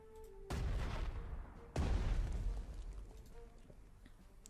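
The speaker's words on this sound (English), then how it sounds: "Let's use the artillery." Two heavy artillery blasts boom out in the tank strategy game Panzer Strategy, each a sudden loud report that decays slowly, spaced about a second apart over a quiet background.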